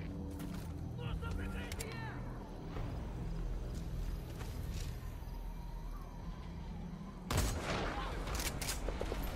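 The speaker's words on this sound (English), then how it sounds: "There's nothing there, but they're firing anyway." Enemy soldiers' gunfire in the video game Metal Gear Solid 5: The Phantom Pain, scattered distant rifle shots and short bursts over ambient noise, ending in a sudden louder volley near the close, with a voice talking over it.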